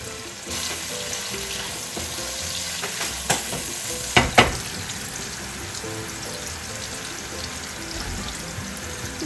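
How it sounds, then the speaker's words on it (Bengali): Bottle gourd cooking in a pan with steady frying sizzle throughout, a few brief clinks and a splash of water being added near the middle, no talk. "দিয়ে দিচ্ছি সামান্য একটু পানি।"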